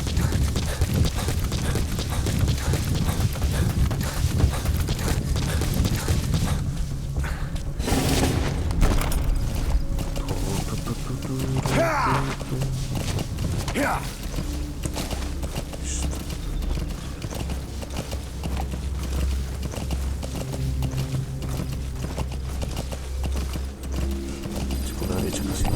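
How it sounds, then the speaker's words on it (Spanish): Horse hooves clip-clop steadily through a Metal Gear Solid V: The Phantom Pain ride near Kabul, with a continuous game soundscape, low rumbles and brief booms beneath, and a voice speaking at times. "El caballo."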